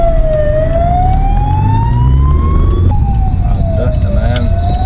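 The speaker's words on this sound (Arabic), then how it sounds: "طبعا في اسعاف جاي من ورانا لازم توسع له." An ambulance siren wails loudly from close behind a delivery rider on a road in Bucharest, its tone sweeping slowly up and down over steady traffic and engine rumble.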